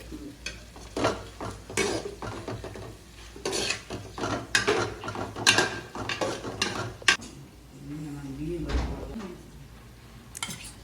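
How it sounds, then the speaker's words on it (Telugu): Spoon stirring ginger paste into a prawn biryani mixture in a pot, with irregular scraping and clinking strokes, light background sizzle, and some talking in between. "అల్లం పేస్ట్ అయితే వేసుకోవాలి తర్వాత బాగా కలుపుకోవాలి"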